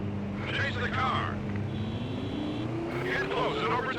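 Racing car engines roar and whine through a Stuntman video game chase, a rising engine tone climbing steadily under someone talking, with brief tire noise mixed in.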